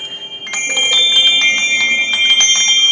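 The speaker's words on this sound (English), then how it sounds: "down here we have another little feature called the Zimbelstern" Zimbelstern bell stop on an Austin pipe organ, its small tuned bells spinning out a steady, bright, overlapping tinkling that rings continuously and fairly loudly, with no voices.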